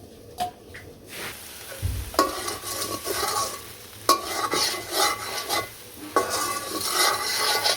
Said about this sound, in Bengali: আর এদিকে আমার যে ঢেঁড়স ভাজিও হইতেছে